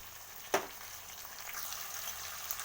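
Onion, garlic and ginger paste frying in a pan, a soft steady sizzle with one sharp clatter of stirring near the start, fairly quiet.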